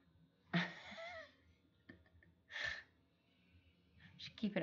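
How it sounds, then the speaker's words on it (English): A dog lying on an office chair snores close by, with a few wheezy, breathy snorts separated by quiet pauses. "Oh, the one the dog's snoring on back here?"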